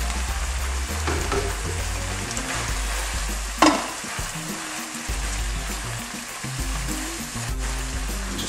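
Spinach sizzles in a hot pan of reduced sauce for a citrus beef stir fry, a continuous close frying crackle with stirring scrapes and one sharp clatter midway, no voices.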